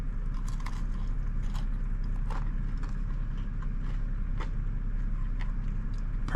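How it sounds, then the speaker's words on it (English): Someone bites and chews into a homemade pizza topped with crispy bacon and thick pepperoni at a minivan campsite near Devil's Tower, giving repeated close crunches and mouth sounds over a steady low background rumble. "I'm sure you guys can hear that little bit of crunch when I bite into it."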